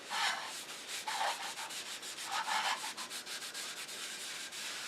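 Sandpaper rubbing over a woodturning, working through the grits, gives a steady raspy scratching in repeated strokes with a few louder surges, close and continuous with no talk.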